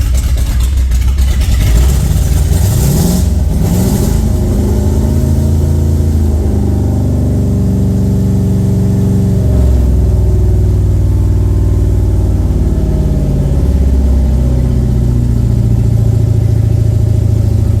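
A Ford 302 V8 fitted with Holley Sniper 2 throttle-body fuel injection runs close by, holding a steady, loud idle with a couple of brief rises in engine speed before settling back.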